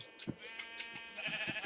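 Sheep in the Minecraft video game bleat several times in quick succession, short nasal bleats close and clear with no talk over them.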